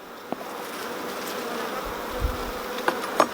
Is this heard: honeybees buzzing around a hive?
yes